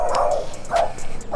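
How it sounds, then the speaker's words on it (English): Dogs bark from behind a fence, three short barks spaced across a second and a half, moderately loud and fairly close, with no talking. "Every time I talk by a fence with dogs, they just bark."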